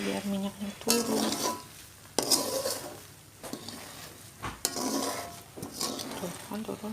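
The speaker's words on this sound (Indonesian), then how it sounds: "harus terus diaduk-aduk ya" Fried chicken serundeng stirred in a pan, with repeated scraping and clattering strokes of a utensil against the metal over a constant oily sizzle. The sound is close and carries on for several seconds.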